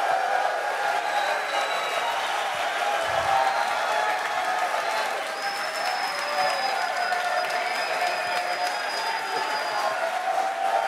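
Large crowd at the Tesla 2022 annual shareholder meeting applauding and cheering steadily throughout, a dense continuous roar with whistles rising over it, with some speech mixed in.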